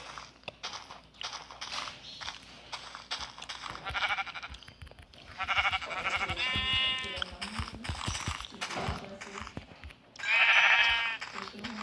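Sheep in a video game bleat in a few drawn-out, wavering calls over a busy bed of game noise and ongoing talk, the last bleat loud and close.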